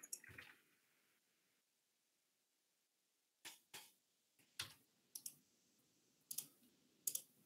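Sharp computer mouse clicks while working in a spreadsheet, about ten close, crisp clicks that come singly and in quick pairs after a short quiet stretch.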